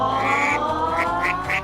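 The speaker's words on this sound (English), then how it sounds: "4 ducklings. Quack, quack." Ducklings quack in a run of several short, bright calls that repeat over a continuous layer of sound, close and fairly loud throughout.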